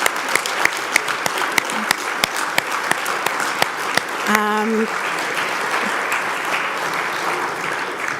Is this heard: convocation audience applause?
yes